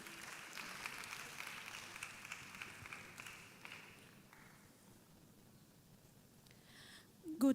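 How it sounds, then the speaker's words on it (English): An audience at an international conference applauds faintly, the clapping fading out after a few seconds and leaving low room noise. "Please, a round of applause, please."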